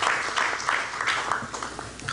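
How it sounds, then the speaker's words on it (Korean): Members of a church congregation give a warm round of thankful applause, many hands clapping in a continuous, fairly close wash that goes on without a break. "우리 다시 한번 우리 감사의 박수를 해주시기 바랍니다."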